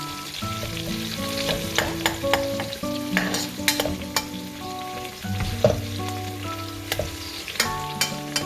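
Chicken curry with onions being stirred in a pan, a spoon scraping and clinking against the metal in irregular strokes over a soft sizzle, close and clear.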